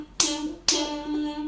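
Two sharp hand claps about half a second apart during a children's music lesson on rhythm, close and crisp, each ringing briefly over a sustained tone.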